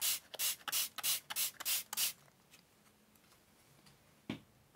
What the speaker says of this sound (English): That was the faded jeans spray.